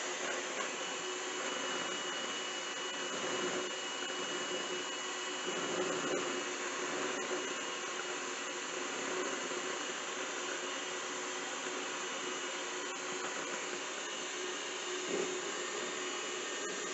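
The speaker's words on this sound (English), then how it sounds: "Do the egg whites until it's really nice and frothy" An electric mixer whisking egg whites until frothy for cod fish cakes, a continuous, even whirring drone holding steady throughout, moderately quiet with no voices.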